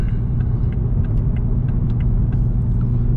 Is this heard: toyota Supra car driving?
yes